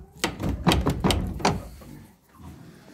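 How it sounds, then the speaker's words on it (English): A farm door is pushed shut with a series of four or five sharp, close knocks and rattles, then quiet rustling. "Let's get our door shut so it stays closed."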